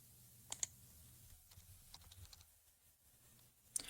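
Typing on a computer keyboard while working in Visual Studio, with a few sharp key clicks standing out over a quiet, faint background of softer keystrokes.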